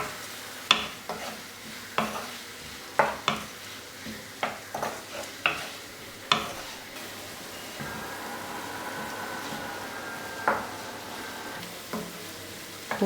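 Onion, ginger, green chili and garlic sautéing in a pan for Malabar fish ada, a soft steady sizzle with repeated sharp scrapes and clinks of a spoon stirring against the pan.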